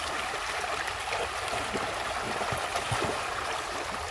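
Fast-flowing stream water rushing and gurgling steadily in a bush setting, a continuous close wash of broadband noise with small splashy bursts, no voices.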